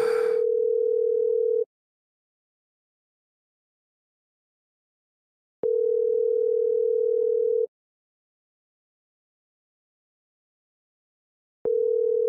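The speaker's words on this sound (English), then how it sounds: "Do y'all hear it ringing?" A phone's ringback tone sounds on the line in three steady, evenly spaced bursts, each about two seconds long, with silence between them.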